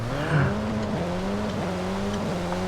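A 2013 Wuling Sunshine S microvan in Forza Horizon 5 gives a steady engine drone with rising and falling pitch as tightly spaced gears shift, continuous and fairly close, with no talking.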